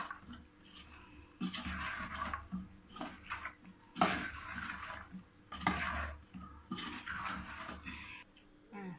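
Minced pork larb with sliced spring onion is stirred in a pan or bowl. Quiet metallic scrapes and clinks come in irregular bursts, faint and close, with no talking.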